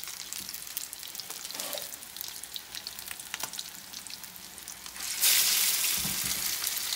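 Salmon croquettes fry in a pan with a steady crackling sizzle. The sizzle swells louder and brighter near the end, as though more batter hits the hot oil.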